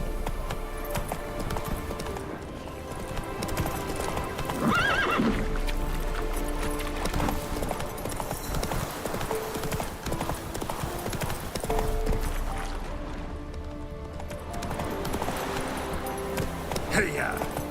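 In the Witcher 3 video game, the horse Roach gallops with a steady, rhythmic clip-clop of hooves over ambient game music, with a brief whinny.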